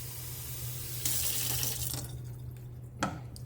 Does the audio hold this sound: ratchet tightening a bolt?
no